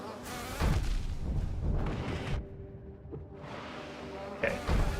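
A cannon bee enemy in the video game Hollow Knight, a continuous insect-like buzzing drone with thumping bursts layered under game music throughout.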